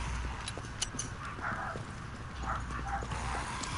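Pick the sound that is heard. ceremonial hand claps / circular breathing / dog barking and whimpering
dog barking and whimpering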